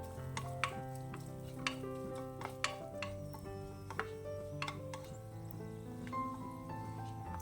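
Cashews and raisins frying in ghee in a pan, a soft continuous sizzle broken by a few sharp clicks of a spoon stirring, close by and without talk.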